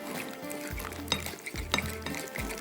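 Potato and chicken kebab mixture being stirred and pressed together by hand or spoon in a bowl, a few soft squishing, scraping strokes at close range with light clinks, no talking.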